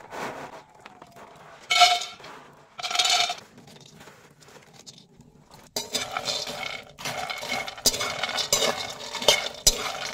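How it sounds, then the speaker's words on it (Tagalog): Cocoa beans toasting in a dry pot with no oil, stirred with a utensil: scraping, rattling and clinking of beans against the metal, sparse at first, then busier and continuous. "Halo-haluin lang natin na dire-diretso para even yung pagkasunog ng mga buto."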